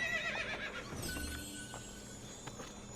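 A horse whinnies in the video game Assassin's Creed Ezio Trilogy, a short faint neigh at the start over quiet game ambience, with a few soft hoof sounds afterward.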